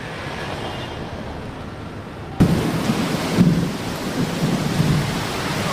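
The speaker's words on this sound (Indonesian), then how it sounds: "Tiba-tiba cuaca berubah ya dari panas ke hujan langsung ya" Steady rain falls outside a coffee shop after a sudden shift from hot weather to a downpour. A sharp, loud thunderclap breaks in partway through, followed by heavier, louder rain that keeps rumbling, with no voices.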